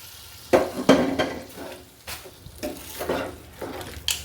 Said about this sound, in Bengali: এবার মিলিয়ে রান্না করে নেওয়ার পালা।